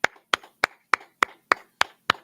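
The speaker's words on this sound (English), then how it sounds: "Hey, clap it up, Israel." Eight sharp hand claps land in a steady, even rhythm about a third of a second apart, close and crisp, at an evening class gathering with no talking between them.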